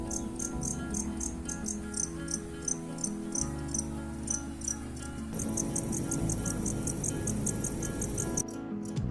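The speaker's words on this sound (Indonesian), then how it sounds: "Hasil suara jangkrik." Crickets chirp in steady, rapid pulses, high and continuous, with a faint background hum underneath and no voices.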